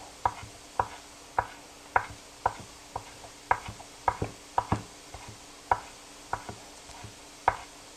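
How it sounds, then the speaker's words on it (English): A knife finely chopping lamb-dish ingredients on a cutting board, steady evenly spaced taps about two per second, close and clear with no talking. "run your knife back through it to pick up any little stragglers"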